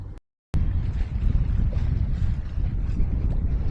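A sailboat is sailing up Loch Linnhe in gusty wind. Loud, continuous buffeting wind rumble and rushing water fill the clip after a brief moment of silence near the start, with no voices.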